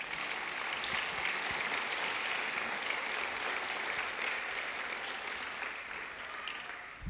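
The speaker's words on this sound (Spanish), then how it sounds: "Denle un aplauso a Jesús" A church congregation at a Sunday service applauds together, a sustained, fairly distant wash of clapping that holds evenly throughout.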